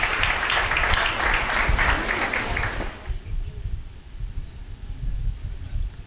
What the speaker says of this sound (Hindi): और एक बार जरा जोरदार तालियां